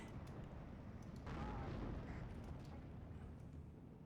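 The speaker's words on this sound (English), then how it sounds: "Got some artillery started to shoot now." Artillery firing in the Steel Division II war strategy game, a low, dense rumble of distant booms and blasts rolling continuously and faintly, with no talking.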